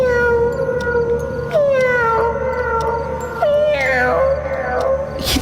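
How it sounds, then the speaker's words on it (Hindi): A cartoon cat cries in a series of loud, drawn-out wailing meows that rise and fall, several wails in a row with no other sound around them. "सोमी ने अपनी आंखें बंद की तो उसे किट्टी के रोने की आवाज सुनाई दी।"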